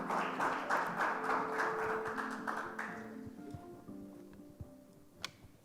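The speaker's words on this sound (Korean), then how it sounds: "큰 박수로 환영해 주십시오." Applause from a conference audience at a robotics strategy event welcomes an invited speaker to the stage, a fairly faint burst of clapping that fades after a few seconds, leaving light room sounds and an isolated tap.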